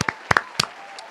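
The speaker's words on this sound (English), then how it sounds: "Can we do a round of applause for that?" A handful of sharp, separate handclaps, close and brief, spaced over about a second like a small round of applause in a podcast studio.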